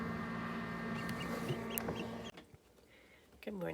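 Silver Laced Orpington and Black Copper chickens cluck softly and steadily over a constant hum during their first days after incubator hatching, with a brief voice briefly cutting in.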